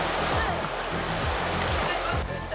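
Water rushes steadily through the treatment tanks of a municipal water system, a dense, continuous wash of flow with people talking faintly underneath.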